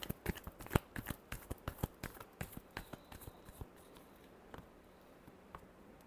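Tarot cards are shuffled by hand, a quick run of crisp riffling slaps and flutters close by and quiet, fading into softer handling after a few seconds.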